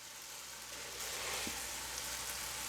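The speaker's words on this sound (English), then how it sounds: "we'll give them a quick sear" Meat searing in a hot pan for goulash, a steady loud sizzle and crackle of frying that swells slightly partway through, close up with no talk.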